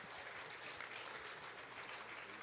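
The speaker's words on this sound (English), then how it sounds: "Give them a big round of applause, guys." Crowd at a live-streamed concert claps for the stage crew, a faint, even spread of applause heard from a distance with no voices over it.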